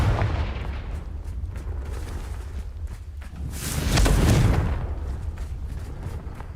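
Confringo fire spell cast in the Hogwarts Legacy video game, bursting as a loud, rumbling blast that swells near the middle over a constant low roar of background noise.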